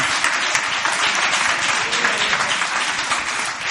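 Church congregation at a missionary workshop applauds loudly and steadily, a dense wash of many hands clapping with no talk over it.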